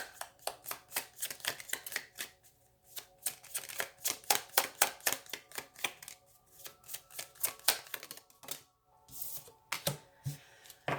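Tarot cards are shuffled in quick rhythmic riffles and taps, close up and fairly crisp, with short pauses between runs.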